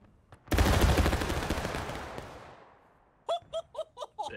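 A reenactment battalion fires a musket volley at a Gettysburg event. A ragged, crackling burst of many shots decays over about two seconds, and then several short shouts and laughs follow close by.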